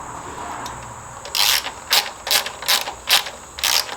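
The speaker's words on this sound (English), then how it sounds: "So I'm going to take this whole panel and just loosen it up" A ratchet with a 10 mm socket loosening panel bolts on a 1982 Suzuki GS300L motorcycle: six quick clicking ratchet bursts in an uneven rhythm, close and distinct over faint background hum.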